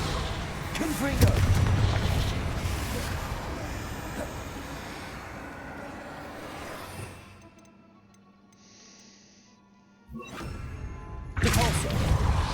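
Confringo fire blast spell cast in Hogwarts Legacy combat, loud booming blasts and thuds in a dense burst, then a quieter lull with a faint tone before more heavy impacts return.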